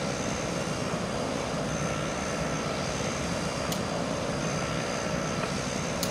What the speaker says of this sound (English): I want to get a view from above of the aircraft that's spinning.